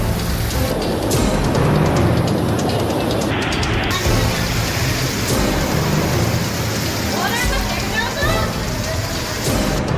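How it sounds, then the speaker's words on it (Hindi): Heavy monsoon rain pours down over a city in Gujarat, a dense, continuous roar of downpour that stays loud and unbroken throughout. "गुजरात के कई शहरों में झमाझम बारिश हुई"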